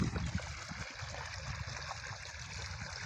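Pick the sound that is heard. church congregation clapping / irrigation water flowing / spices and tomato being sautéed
irrigation water flowing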